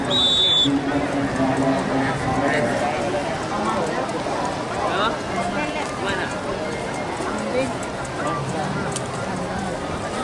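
Hooves clip-clop steadily amid a busy crowd murmur at a horse race in Bukittinggi, with a brief whistle near the start; the trotting sounds blend into continuous background noise.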